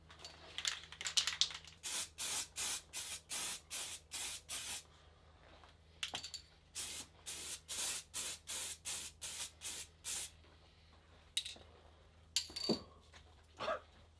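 An aerosol spray can fires repeated short, even bursts of hissing paint onto a Subaru Impreza CV axle being restored. The bursts come in quick regular runs close by, separated by brief pauses and a few scattered taps.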